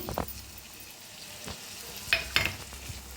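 Chopper-made tomato paste fries with onion in a pan for a garlic fenugreek dish, a quiet, even sizzle with a handful of stirring clanks and scrapes and no speech.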